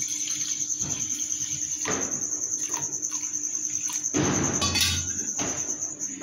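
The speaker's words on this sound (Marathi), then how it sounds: "आता पाणी घालायचं ह्याच्यात, एक पातेलं 1 वाटी असं" Water is poured into a pan for sugar syrup for khava gulab jamun, in bursts of splashing, with a steady high insect-like whine underneath.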